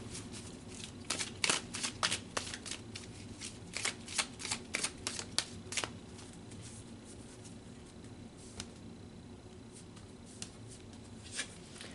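Tarot cards being shuffled by hand: a steady stream of soft riffling and papery snaps, clustered in bursts then thinning to occasional flicks, close and fairly quiet with no talking.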